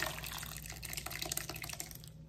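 Blended puree for beef birria pours out in a short, close, wet gush, splashing and trickling briefly before trailing off.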